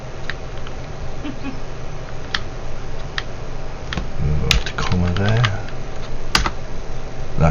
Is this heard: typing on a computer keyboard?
yes